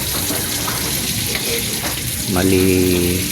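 Chopped onion fries in a pan, giving a steady close sizzle and crackle with a brief clatter partway through, with no speech.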